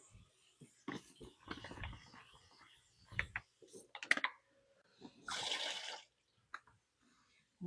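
Strawberries rinsed under running water: a brief splashy gush of tap water lasting about a second, close by, preceded by a person talking and some kitchen handling noises.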